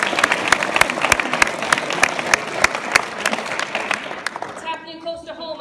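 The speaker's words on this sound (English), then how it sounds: "Let's give her a round of applause." Lively audience applause at a school choir concert, with close, distinct individual claps within the crowd, fading near the end as a voice begins speaking.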